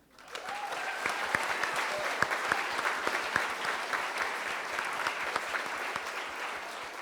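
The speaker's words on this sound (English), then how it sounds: "Massive round of applause." Audience at a conference panel breaking into applause, a sudden swell of many hands clapping that holds steady and fairly close for several seconds, with individual sharp claps standing out.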